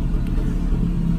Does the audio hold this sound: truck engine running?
yes